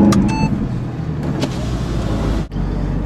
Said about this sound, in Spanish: Ahí tienen el fabuloso sonido del motor.